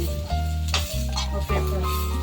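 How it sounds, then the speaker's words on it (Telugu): Cumin, peanuts and spices fry in a pan with a close, steady sizzle while a spoon scrapes and stirs through them in short strokes, with no one speaking. "కొద్దిగా జీలకర్ర, ఇవన్నీ ఇందులోనే వేసి వేయించుకోండి."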